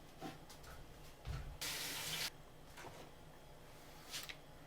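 Water from a tap pours into a container in one short, bright burst of rushing flow, with soft knocks and handling sounds before and after in an otherwise quiet room.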